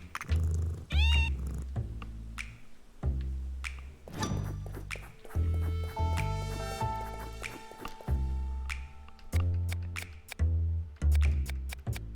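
In the video game Wolfstride, a cat rumbles with a low, rhythmic purr in repeating pulses, joined by a few brief meows and scattered clicks.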